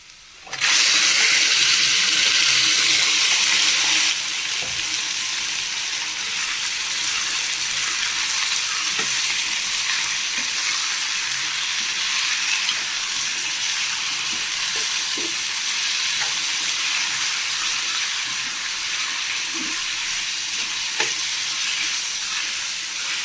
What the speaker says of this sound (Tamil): இப்போதைக்கு சிக்கன் சேர்த்துக்கலாம்.